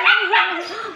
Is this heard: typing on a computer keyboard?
no